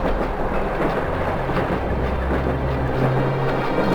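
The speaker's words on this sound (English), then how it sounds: "Those freight trains pass by at least once every 5 minutes all day long." A freight train rolls past nearby, producing a loud continuous rumble with rhythmic clickety-clack of wagons on the rails throughout.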